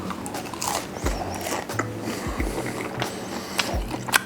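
Crunchy paratha torn and bitten alongside a Reshmi curry, giving a few close, sharp crackling bites and chewing crunches at irregular intervals over a low kitchen background.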